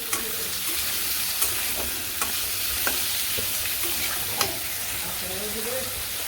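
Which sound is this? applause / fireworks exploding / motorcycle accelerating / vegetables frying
vegetables frying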